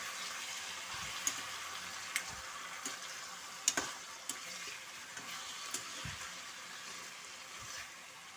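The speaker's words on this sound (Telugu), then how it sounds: "చికెన్ వేసాం కదండి, ఒకసారి కలపాలండి." Chicken being stirred into a sizzling gravy curry in a pan, soft steady frying hiss with scattered spoon scrapes and light clinks, fairly quiet and close, no talking.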